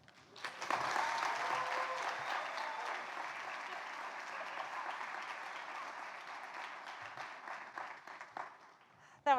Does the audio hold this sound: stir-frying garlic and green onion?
no